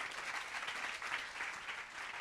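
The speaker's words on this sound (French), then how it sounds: "On peut les applaudir aussi" Faint, distant applause rises from a seminar audience, a soft continuous patter of many hands heard at low level with no voices over it.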